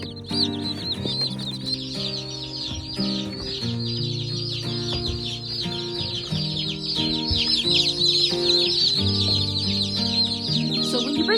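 Newly brought-home chicks peep and chirp continuously in rapid, high-pitched bursts, close and lively, layered over steady background music.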